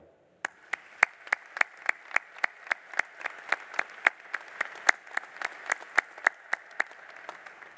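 Audience applause welcoming faculty at a nursing college commencement ceremony, steady clapping from a sizable crowd with sharp individual claps standing out, fairly close and continuous throughout.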